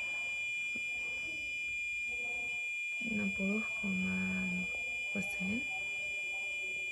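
A buzzer on a uniform-classification device sounds a continuous high steady tone throughout after a batik shirt is detected, while a person speaks over it.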